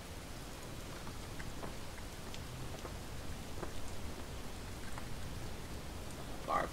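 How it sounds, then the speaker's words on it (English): Steady rainfall in the Relics of Hyrule video game, a soft continuous patter of drops with faint, fairly quiet hiss throughout. "that sound of the rain is getting on my last nerve"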